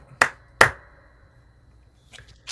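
Two sharp hand claps in a café, spaced about half a second apart, loud and close, followed by a few faint taps in a quiet room.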